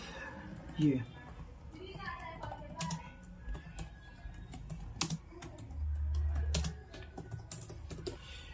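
Keys clatter on a computer keyboard as a business address is typed into TallyPrime company-creation fields, a run of quick close taps with a low hum and occasional voice underneath.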